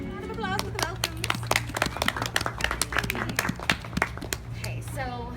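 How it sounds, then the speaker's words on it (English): An audience at a festival gathering bursts into a crisp round of clapping, dense and close, with voices briefly audible at the start and end. "Round of applause with the welcomes."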